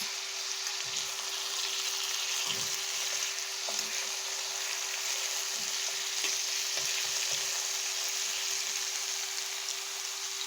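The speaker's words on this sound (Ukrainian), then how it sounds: "так смажиться наш гарбуз" Steady, loud sizzling of pumpkin frying in an uncovered pan, with occasional soft stirring bumps and no talking.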